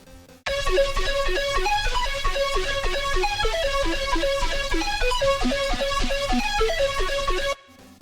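A bright synth lead plays a bouncy, repeating melody over a steady low pulse, loud and continuous for about seven seconds before cutting off.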